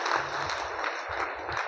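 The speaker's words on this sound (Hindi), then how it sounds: "एक ज़बरदस्त ताली होना चाहिए" Audience applause breaks out in response to a call for a big round of clapping, a dense, steady wash of many hands at moderate level that continues through the whole moment.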